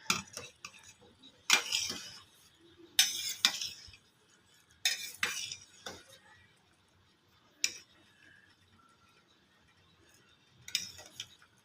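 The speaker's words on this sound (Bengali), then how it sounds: "নাড়ছি যাতে তাড়াতাড়ি ভাঁজটা খুলে যায়" Egg Maggi mughlai paratha being stirred and flipped in a pan, with sharp metal utensil scrapes and clinks coming in bursts separated by quieter pauses, close and fairly loud.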